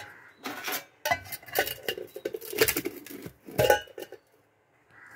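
A pan is set on a stove and oil is poured in, heard as a series of close metallic clinks, scrapes and knocks in short bursts, ending in quiet.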